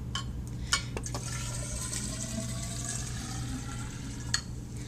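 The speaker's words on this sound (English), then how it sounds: "What we're going to do is you put water in the graduated cylinder." Water pours steadily into a large graduated cylinder, a continuous close trickling fill with rising tones, marked by a couple of brief clinks.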